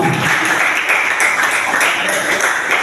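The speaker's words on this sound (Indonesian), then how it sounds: "Tepuk tangan buat kita semua." Classroom applause from students at an SMK vocational school, a loud steady patter of many hands clapping close by for the full stretch, with no distinct talking over it.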